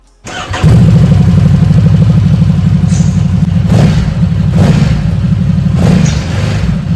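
A Ducati SuperSport 950S motorcycle starts up after a brief silence, then its engine settles into a loud, close idle with several quick throttle blips that rise and fall.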